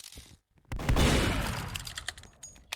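Gunshot in Roblox Murder Mystery 2, a single sudden blast after a brief quiet gap, followed by a decaying rumble and scattered small clicks.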